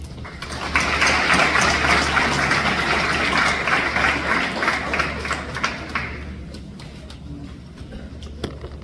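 Applause from a crowd at the Chincoteague High School Class of 2025 commencement swells into a broad, sustained clapping wash, then thins to scattered claps and fades near the end.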